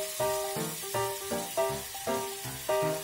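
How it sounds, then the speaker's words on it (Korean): Mushrooms sizzle steadily in a pot of melted butter and olive oil, a soft broadband hiss running beneath louder rhythmic background music. "버섯은 이렇게 볶아서 수분을 날려주고 수프를 만들어야 버섯의 맛과 향을 제대로 즐길 수 있어요"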